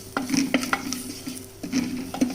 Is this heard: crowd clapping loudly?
no